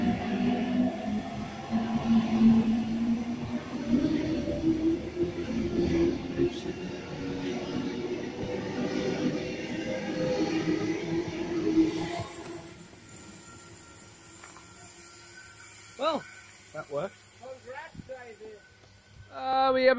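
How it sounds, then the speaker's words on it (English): A Pacific National freight train rolls past Wondabyne station with a heavy rumble and faint wheel squeal for about twelve seconds before fading away, after which someone speaks nearby. "We have a freight train. Another Pacific National freight train."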